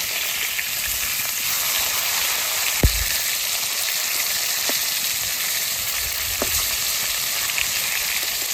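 Pieces of catla fish fry in hot oil in a wok, a steady, even sizzle throughout with a few faint clicks and pops, heard alone without talk.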